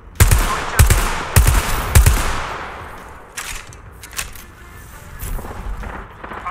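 Gunfire in Apex Legends: four loud, evenly spaced heavy shots ring out close, then lighter scattered distant shots and impacts follow over a lower background.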